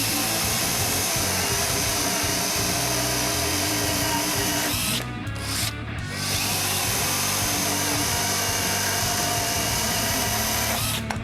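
A Worcraft CHS-S20LiB cordless mini chainsaw runs steadily at close range on a 55 by 60 mm wooden block, a continuous loud motor whine with a brief dip midway before resuming at full speed.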